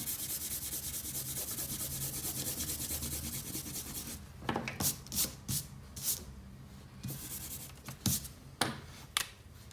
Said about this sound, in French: gommé notre trait de construction.